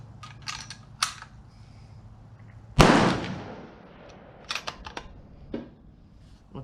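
A .243 Win Ruger M77 rifle fires one loud, sharp shot with a decaying echo, surrounded by lighter clicks and handling noises.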